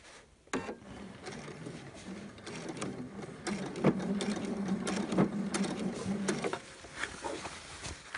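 A sewing machine stitches shirt fabric with a steady whirring rattle for several seconds, preceded and followed by handling clicks and rustling of cloth on the machine.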